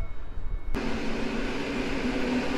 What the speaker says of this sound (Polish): A obok nas ma wjechać pociąg Intercity Kujawiak z Chełma do Bydgoszczy.